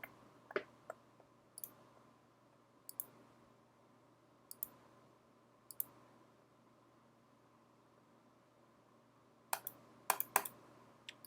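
Sparse, quiet clicks of a computer mouse at a desk, coming singly and in small clusters over a faint steady hum, with a quick burst of several clicks near the end.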